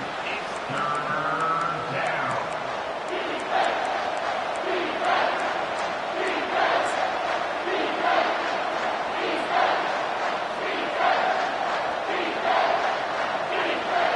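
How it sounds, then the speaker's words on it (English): A dense, steady roar of a stadium crowd cheering fills the College Football 25 video game, with a sustained rumble and occasional swells on a third down defense; no clear speech. "Decibels rising as the crowd gets behind this defense on 3rd down."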